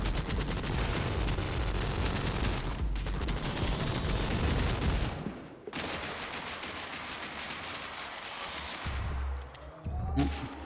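Rapid, sustained gunfire from a Gatling gun in the Shotgun Cop Man video game, loud and dense for about five seconds, then continuing more sparsely with game effects and a brief rising tone near the end.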